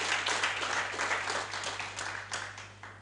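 Audience applauding at a chancellor installation and handover ceremony, a steady wash of clapping with a few louder bursts, fairly close and continuous throughout.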